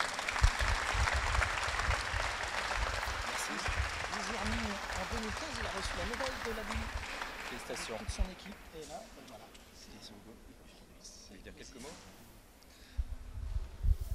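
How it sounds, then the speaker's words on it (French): An audience at an award ceremony applauds warmly, and the clapping fades to a lower murmur of voices and people moving around the room before a few more claps rise near the end. "beaucoup d'applaudissements et la remise d'un ITRI"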